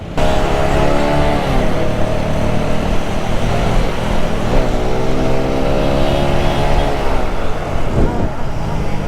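Yamaha R15 motorcycle engine revs hard while racing past on the road, a loud steady whine with a few pitch dips as gears change, with traffic noise mixed in.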